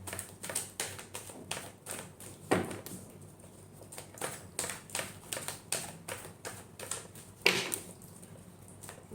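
Tarot cards being shuffled by hand, a steady run of crisp, close taps and riffles with a few louder slaps, quiet in between and no voices.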